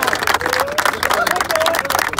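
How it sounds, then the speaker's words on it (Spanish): Crowd applause and clapping for the three-time champions of La Cueva de Arena tournament in San Francisco, a steady dense burst of claps with cheering voices mixed in throughout. "Al tricampeón del torneo La Cueva de Arena, San Francisco, un fuerte aplauso"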